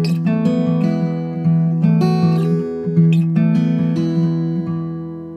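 Acoustic guitar playing a fingerpicked part at full tempo, bright plucked notes in a steady rhythm, close and clear with no voice.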